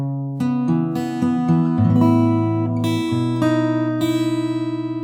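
Fingerstyle guitar plays a melodic passage with a variation, plucked notes ringing over a steady bass line, played alone and up close at a moderate, even loudness.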